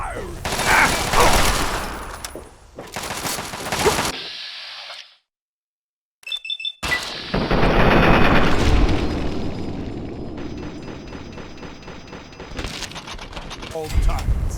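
Heavy guns firing in Fallout 3's Operation Anchorage, with loud booming blasts and bursts near the start and end, a brief silent gap between them, and voices speaking in the middle.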